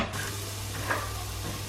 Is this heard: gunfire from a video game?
no